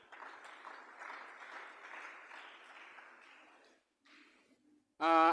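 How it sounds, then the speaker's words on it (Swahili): A church congregation claps for Jesus, a brief rippling burst of applause that fades into near silence, followed by a sudden loud tonal sound at the very end. "tumpigie Bwana Yesu makofi"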